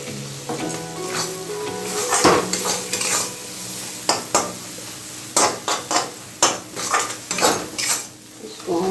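Coriander and cumin powder roast in a pan for chicken curry while a spoon stirs, producing a soft sizzle broken by repeated sharp metallic clinks and scrapes against the pan, coming faster toward the end.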